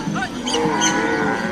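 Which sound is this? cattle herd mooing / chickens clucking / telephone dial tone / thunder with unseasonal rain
cattle herd mooing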